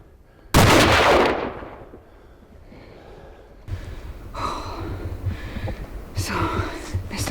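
A rifle shot on a red stag hunt in New Zealand, one sharp loud crack that decays quickly, followed by quieter rustling, movement and breathing.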